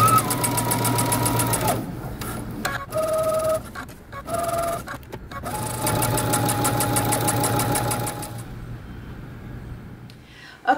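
Sewing machine stitching the seam allowance and underlap of a jeans fly front, running in close, loud bursts of rapid needle chatter with brief stops for backstitching, then falling quiet near the end.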